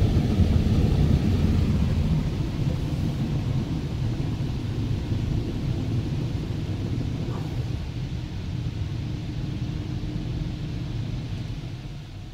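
Spinning side brushes of an automatic car wash sweep over a vehicle at the Kerman Car Wash in Grimsby, a dense continuous low rumble and swish heard from inside the car, fading slightly toward the end.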